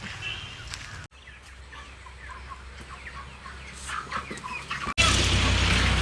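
Several hens cluck in short, irregular bursts for most of the stretch, over a low steady hum. A louder rush of noise cuts in near the end.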